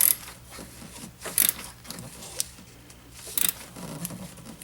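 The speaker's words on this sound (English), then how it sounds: "Then our two 10mm nuts, we screw them in. Tightening." Two 10mm nuts being tightened on the radiator fan of a 2005 Toyota Corolla, giving intermittent close metallic ratchet clicks and small mechanical rattles with brief pauses between bursts, no talking.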